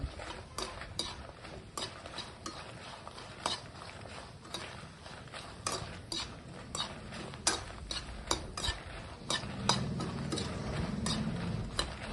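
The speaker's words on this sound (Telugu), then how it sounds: "ఫ్రై అయిపోతాయి కదా ఎండుమిరకాయలు." Dried red chillies fry slowly in a pan over a low flame with a soft background sizzle, while a spoon scrapes and clinks against the pan in frequent sharp taps throughout.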